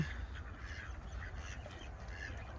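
Ducks on a pond at Weald Country Park in Brentwood, Essex, give faint, scattered quacks over soft outdoor background noise, with no voices.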